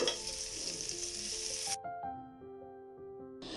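Onion paste fries in hot oil in a pan, giving a bright, steady hiss for under two seconds. The hiss cuts out and returns briefly at the end.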